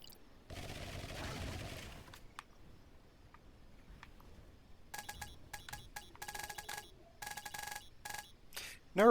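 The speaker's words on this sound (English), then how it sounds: "it just chugs away at the fuel as I'm launching all these things" Bursts of launching sounds from the video game Lightyear Frontier, a whooshing rush followed by rapid clicky firing volleys and scattered sharp pops, moderately quiet with no talking.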